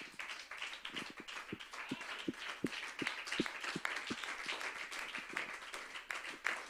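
Light clapping from a church congregation praising the Lord, distinct individual claps in a loose, uneven rhythm over a soft murmur of other hands, fairly faint and somewhat distant.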